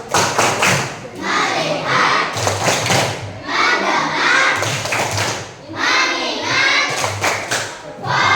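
Schoolchildren in a classroom perform a rhythmic focus clap, sharp bursts of clapping and thumping in repeated patterns with chanted voices between groups.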